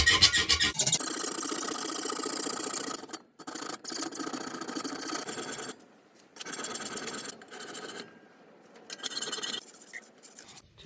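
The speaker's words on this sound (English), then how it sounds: "Just removing the burr that I created with the file." A metal file scrapes a burr off a cheap saw blade, giving close, rasping strokes in bursts separated by short pauses.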